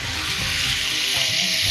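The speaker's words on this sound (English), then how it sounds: "hear that sizzle" Steady, bright sizzling of a spatchcocked tandoori chicken frying in a hot skillet, loud and continuous with no talking.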